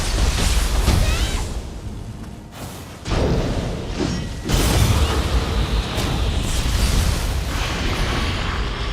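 A cannon in the Nioh 3 video game fires and explodes in a series of loud, heavy booms and thuds, with brief dips in between and rumbling debris after each blast.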